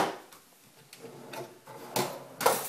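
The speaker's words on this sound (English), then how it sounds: "here again we've got these pull-out toe drawers" Pull-out toe-kick drawers in a remodeled kitchen sliding and knocking shut, a few soft wooden clunks and rattles spaced out over a couple of seconds, the last two louder and closer.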